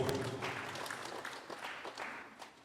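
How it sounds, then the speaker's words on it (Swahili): Applause rises from a congregation at a parish church in Dodoma, Tanzania, during a parish celebration day: steady, dense clapping that stays fairly even and fills the room for a few seconds before thinning slightly. "Tumshangilie Mungu kwa makofi"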